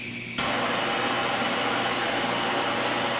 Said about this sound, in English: Once I light this tip, it's going to stay lit until I either blow it out or relieve the gas pressure